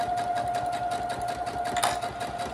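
A sewing machine runs steadily at speed, stitching fabric for a double-sided pouch with snap buttons, giving a loud continuous whirring hum with rapid needle chatter and one brief louder clack near the end.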